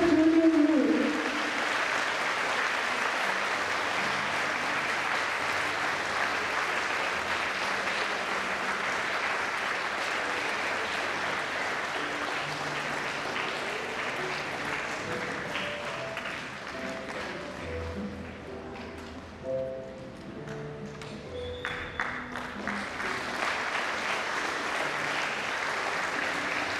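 School audience of adults and children applauding the principal at a junior school prefects' investiture, a long, loud burst of clapping that gradually thins and softens, with scattered instrumental tones emerging underneath toward the end.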